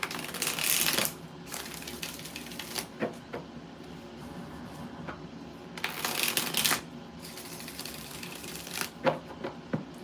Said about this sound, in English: Three more shuffles.